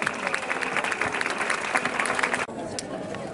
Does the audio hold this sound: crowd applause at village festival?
yes